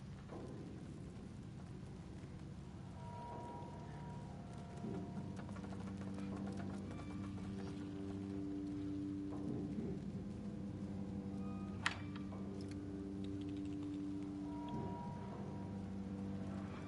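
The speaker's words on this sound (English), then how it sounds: "I would say it sounds like rain, except I know it's creepy ass spiders." Creepy spiders skittering in Silent Hill 2 Remake, a soft, rain-like patter of tiny clicks spread evenly beneath low droning music, with one sharp tick near the end.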